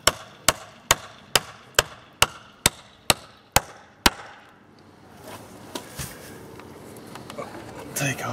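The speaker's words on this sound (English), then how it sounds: "I got a 32-ounce ball peen hammer, because they do take a little bit of effort" Ten sharp metallic strikes from a 32-ounce ball peen hammer driving a bolt while fitting a post to a concrete block wall, steady, evenly spaced, close and loud, followed by quieter shuffling and a few faint knocks.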